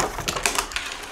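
A budget Battletron gaming keyboard is typed on in a quick run of close, crisp key clicks with uneven spacing, no voices.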